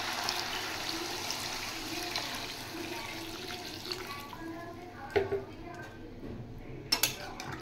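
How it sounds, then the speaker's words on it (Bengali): Water poured into a pan of Bengali rohu fish curry makes a soft, steady rush for about four seconds, followed by quiet clinks and knocks of pots and utensils. "এবার আমি দিয়ে দেব জল।"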